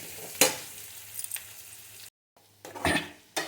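Chunks of pumpkin fry in a pan with a constant sizzle, broken by a few sharp scrapes and clinks of a spoon against the pan and a brief silent cut midway.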